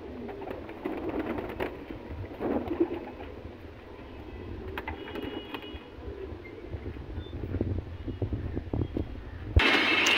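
Caged pigeons cooing in low, steady murmurs close by, with a continuous background hum and faint rustling throughout.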